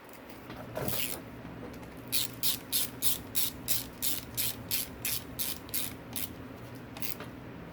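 Tool tightening bolts on a KTM 450SXF engine crankcase during a transmission repair: one early burst, then a rapid row of about a dozen evenly spaced ratchet-like clicks, close and clear.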